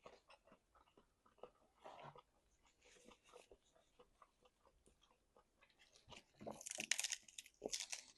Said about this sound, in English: I'm like biting into like weird tendon or like bone type of thing